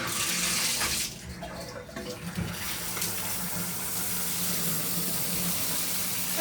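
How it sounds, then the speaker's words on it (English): Shower head in a hotel bathroom sprays water with a loud, steady hiss that drops briefly, then resumes as a continuous rushing spray. "Actually, the spray pattern on this is pretty decent."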